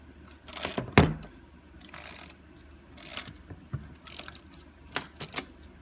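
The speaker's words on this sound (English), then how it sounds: "just a matter of winding the shutter as normal" Mechanical clicks and ratcheting whirs from a camera's winding lever come in several short bursts, close and crisp, with quiet pauses between.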